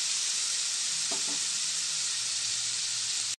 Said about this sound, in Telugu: కాకరకాయ ముక్కలు కొంచెం పచ్చివాసన పోయేదాకా మంచిగా కాకరకాయ ముక్కలు ఫ్రై చేసుకున్నామండి